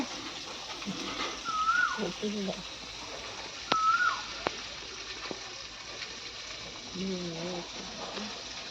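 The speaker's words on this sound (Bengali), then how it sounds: "তো দেখতে পাচ্ছেন কোকিল ডাকছে" A cuckoo calls twice in a clear rising whistle, a short pause between, with a person speaking quietly nearby and light background noise.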